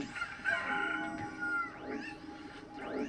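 A rooster crows and clucks in a video game, several drawn-out, rising-and-falling calls fairly close and clear, with no talking over them.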